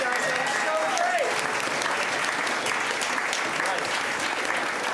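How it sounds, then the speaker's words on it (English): An audience at a student concert gives a steady, dense round of applause that fills the room, with voices mixed in underneath. "give a round of applause, guys"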